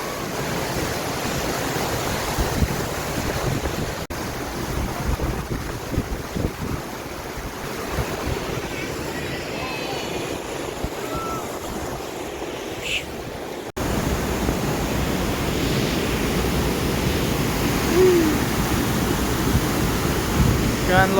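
Gunlock Falls waterfall running hard, heard as a steady broadband rush of water mixed with gusting wind buffeting the microphone, continuous throughout with a slight rise in level partway through.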